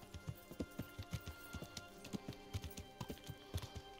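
Horse hooves clip-clopping along a road in the medieval game Kingdom Come: Deliverance, a steady, close rhythm of hoof strikes that continues without pause, with faint background ambience.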